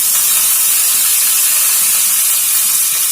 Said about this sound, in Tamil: எண்ணெய் சூடாயிட்டோன்னே கடுகு போட்டுக்கலாம்